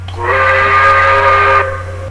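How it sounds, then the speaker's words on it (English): A steam locomotive whistle sounds once, a loud sustained chord lasting under two seconds with a hissy edge, over a low steady hum, with no talk. "Thomas whistled to attract the signalman's attention"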